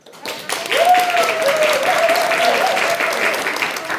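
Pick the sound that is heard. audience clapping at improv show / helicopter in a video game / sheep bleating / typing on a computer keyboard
audience clapping at improv show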